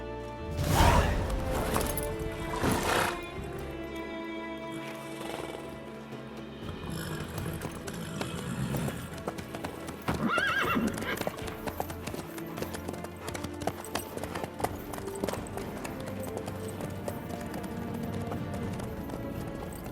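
Horse hooves clip-clop steadily in The Witcher 3 video game, a continuous trotting rhythm under game music and ambient noise.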